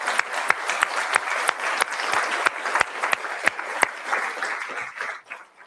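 An audience applauds at a memorial lecture, a sustained wash of clapping with several loud, sharp nearby claps ringing out at irregular intervals before the applause thins and fades.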